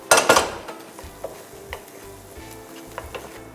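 Onions sautéing in a pan with potatoes give a soft sizzle under scraping and clinking stirring strokes, louder at first and then lighter and intermittent.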